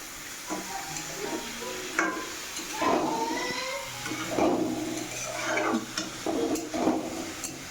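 Soaked, drained rice for khichuri fries in a pan with a steady sizzle and bursts of stirring scrapes, close by, joined by a few clinks of cookware and faint talk.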